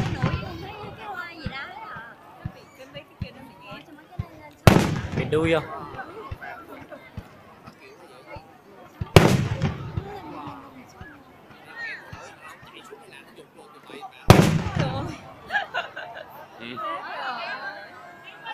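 Fireworks go off in a few loud booming blasts, spaced several seconds apart, while a group of people chat close by throughout.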